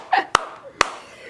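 Two sharp hand claps ring out, close and distinct, about half a second apart, after a brief vocal sound.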